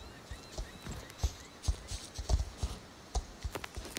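Hoofbeats of a Danish Warmblood ridden in the Star Stable Online video game, a steady run of quiet, soft clip-clops at walking pace with no voices.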